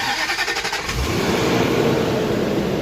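The 4.2-litre supercharged V8 of a 2008 Range Rover Vogue facelift (L322) cranks and fires, then settles into a loud, steady idle close by with no talk.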